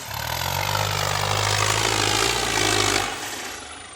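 A New Holland 7500 100 hp tractor engine runs close by with a steady, loud low rumble and broadband roar for about three seconds, then drops to a quieter idle near the end.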